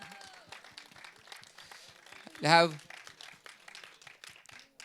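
An audience claps at a film trailer launch event, a short burst of applause rising and fading quickly while an announcer speaks over the hall.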